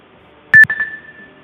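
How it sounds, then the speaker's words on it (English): Digital timer beeping as it is set during a mobility workout: two quick loud beeps followed by a fainter, sustained electronic tone that fades out. "Actually, let me run a timer."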